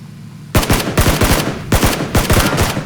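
Bursts of rapid automatic gunfire in the video game PUBG, loud and close, firing in several sharp volleys with brief gaps between them.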